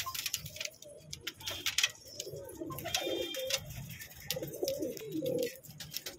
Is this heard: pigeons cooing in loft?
yes